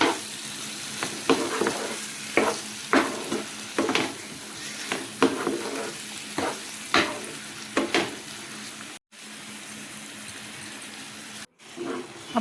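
Chopped medium tomatoes and salt frying with cooked masala in a pan for a creamy paneer lababdar gravy, a steady sizzle broken by repeated stirring scrapes at a fairly even rhythm, close and moderately loud, with no talking.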